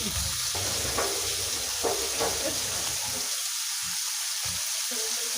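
Chinese-style mixed vegetables sizzle loudly in a pan throughout, with a few clattering stirs early on before the frying hiss settles into a steady crackle.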